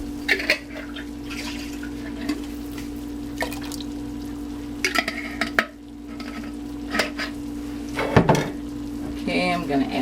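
Spaghetti sauce going into a pot of black bean chili with ground turkey and Italian sausage, heard as intermittent stirring and wet splashes with faint sizzling. A steady hum sits underneath and a voice speaks briefly near the end.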